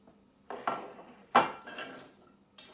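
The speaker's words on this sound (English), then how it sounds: "Take those and you're going to put them in a square pan" Sliced apples are dropped and shuffled into a square 8 by 8 pan, a few close clattering knocks and scrapes of fruit and utensil against the dish, with quiet pauses between them.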